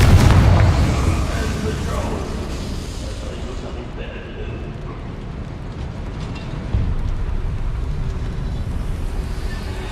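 In Hogwarts Legacy, a Confringo blasting spell explodes in a heavy, low boom right at the start, then fades into a rolling rumble and a steady game ambience.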